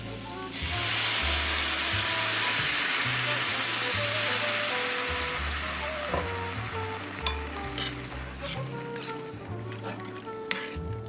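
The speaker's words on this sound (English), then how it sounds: "Add 2 cups of broth to deglaze the pan." Beef bone broth hits a hot pan of caramelized vegetables and garlic, bursting into a loud hissing sizzle that slowly fades while a spoon stirs and scrapes against the pan.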